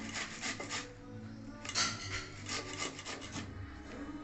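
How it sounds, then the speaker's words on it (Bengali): An onion is grated for an egg curry, giving rapid, rhythmic rasping strokes that scrape up close and repeat unevenly over a few seconds. "পেঁয়াজ ঘষে নিচ্ছে, ডিমের কারির জন্য পেঁয়াজ ঘষে নিচ্ছি।"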